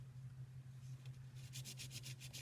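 Paper being rubbed over a textured surface to transfer texture in a drawing, a quiet rhythmic scratching of about eight quick strokes over a steady low hum.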